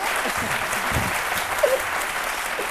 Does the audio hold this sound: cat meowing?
no